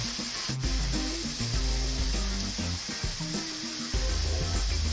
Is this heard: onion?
yes